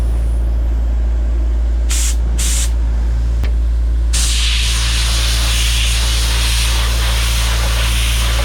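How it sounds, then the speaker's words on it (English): Radiator cleaner is sprayed onto a farm machine used for corn silage: two short hissing bursts, then a longer sustained spray, all over a constant low engine drone. "Now time for the radiator cleaner."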